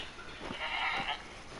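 A herd of goats in the hunting game The Hunter: Call of the Wild gives a couple of wavering bleats close by over a steady outdoor ambience.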